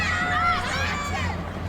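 Home crowd noise at a judo Grand Slam in Düsseldorf, a steady arena hubbub of murmuring spectators with a few faint calls rising above it, continuous and moderately loud.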